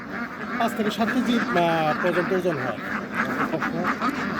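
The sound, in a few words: white Peking ducks quacking on a duck farm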